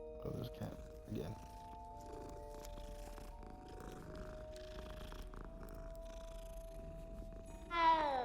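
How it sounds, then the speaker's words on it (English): A cat in the Hogwarts Legacy video game purrs in a soft, continuous rumble, ending in a short rising meow, with game music and voices in the background. "Oh, there's a cat again."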